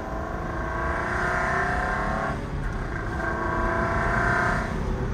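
A Ferrari's engine pulls hard on a road in Japan, a loud, continuous roar heard from inside the car that climbs in pitch, dips briefly at a gear change, then climbs again.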